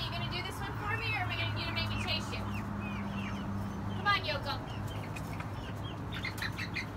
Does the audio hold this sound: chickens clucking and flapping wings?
yes